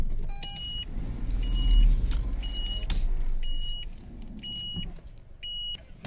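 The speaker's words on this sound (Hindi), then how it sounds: "पहले एक बार मैं गाड़ी मोड़ लेता हूँ" A car being driven and turned during a driving lesson, with a steady low engine and road rumble and a series of short, regular high beeps or chimes repeating throughout.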